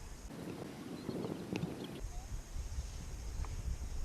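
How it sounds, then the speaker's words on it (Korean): Wind gusts at a paragliding site in Yeosu, a low, rumbling buffet against the microphone that stays steady and close throughout, with faint outdoor background. "바람 오네요"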